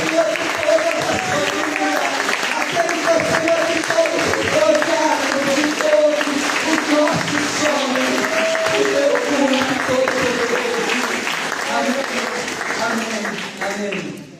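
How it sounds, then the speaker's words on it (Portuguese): Congregation applauding during an evening family church service, a long, loud, continuous wash of clapping filling the space, with voices and sung or shouted tones running through it before it tails off. "aplauda o Senhor."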